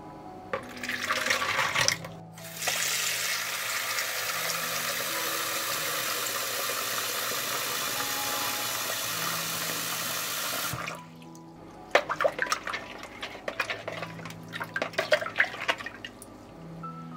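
A steady stream of water pours for several seconds into fertilizer to dilute it, a loud rushing splash, followed by clattering and sloshing sounds.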